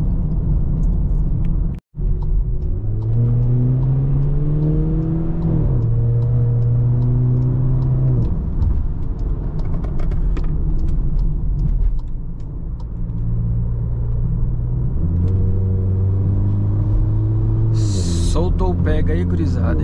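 A Volkswagen Jetta 1.4 turbo pulls away on a city road, its engine note climbing through rising revs and gear changes, loud and close from inside the cabin, with someone talking over it.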